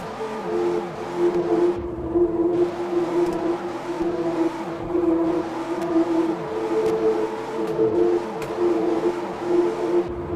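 A car engine drones and revs steadily as it slides sideways in a drift in Car Parking Multiplayer, with a drift-tuned suspension; the tone rises and falls in waves across the whole stretch, loud and close with no talk.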